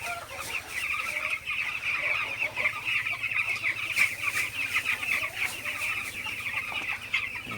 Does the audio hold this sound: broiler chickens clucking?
yes